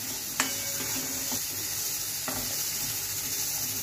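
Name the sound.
ginger garlic paste and asafoetida sautéing in pan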